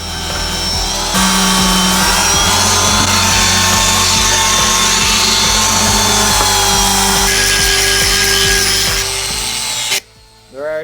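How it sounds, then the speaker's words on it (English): A power sander grinding over fiberglass in a boat cockpit, a loud continuous whirring drone close by that runs for about ten seconds and then cuts off abruptly. "get some sort of sander with a vacuum, because if not, you're just gonna spend all your time cleaning up and itching yourself"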